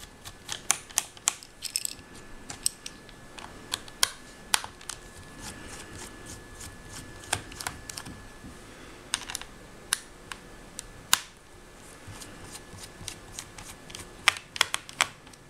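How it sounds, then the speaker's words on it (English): Screws being backed out of the keyboard of an HP NC6400 laptop give scattered, quiet clicks and small ticks of metal and plastic in uneven bursts, close by in a quiet room with no talking. "So we'll just take the screws off,"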